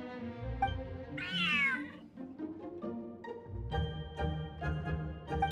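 A cat in the video game Genshin Impact lets out a clear, rising meow among other soft game sounds and music, fairly close and moderately loud.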